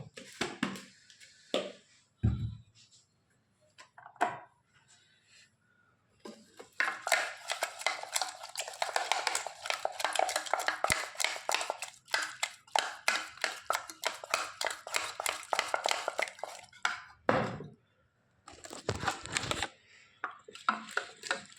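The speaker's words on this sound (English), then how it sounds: "We are going to mix it thoroughly now." Eggs for an omelette being whisked in a bowl: fast, rhythmic tapping and clinking in long runs, broken by short pauses and a few separate knocks, fairly close and moderately loud.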